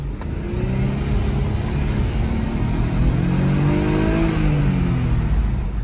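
An Audi S4 B5 with a P1557 fault code is driven in first gear at wide open throttle. The engine revs loudly and continuously, its tone climbing and wavering as it surges back and forth.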